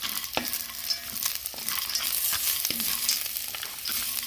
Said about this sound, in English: we've got our shells still browning just a little bit